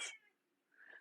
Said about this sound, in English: the cat has entered the chat.